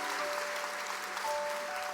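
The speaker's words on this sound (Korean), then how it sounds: "김영수 단원님한테 우리의 온 마음과 사랑과 열정과 정열을 다해서 박수를 한번" An audience at a women's gathering applauds, a dense, even wash of clapping held steady throughout without breaks.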